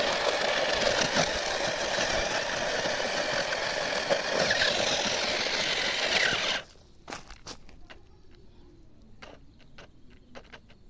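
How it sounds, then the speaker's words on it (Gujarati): A loud, steady tractor engine runs close by while crossing a large pit, then cuts out abruptly partway through, leaving quiet clicks and faint rustling. "આપણો ટ્રેક્ટર ખાડાને પાર કરે છે કે નહીં આપણે જોઈશું"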